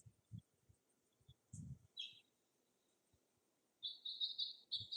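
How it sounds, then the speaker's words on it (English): Small birds near backyard feeders on a windy day give a few faint, scattered chirps, then a brighter run of quick tweets toward the end, over quiet background with soft low thumps. "Hanging out watching the birds."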